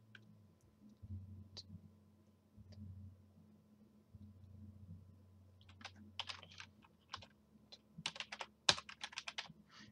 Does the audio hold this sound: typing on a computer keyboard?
yes